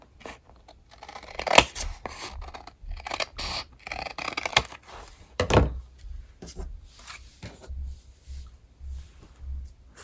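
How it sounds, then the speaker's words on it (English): Scissors trim folded card-making paper, about 8 by 10 inches, in several sharp snips and crunches scattered over quiet moments, close by with no talking. "I fold it in half one way, trim off the excess."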